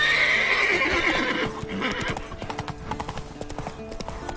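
Horse hooves clip-clop at a gallop in a video game, a quick steady rhythm up close, with a whinny early on and a rider's voice briefly calling out.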